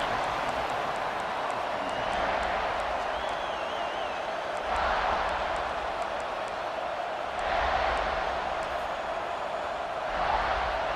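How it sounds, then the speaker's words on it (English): Football stadium crowd roaring and cheering in a broad steady wash that swells in waves, distant and continuous, with a commentator's voice talking over it. "This crowd ready to make its presence known."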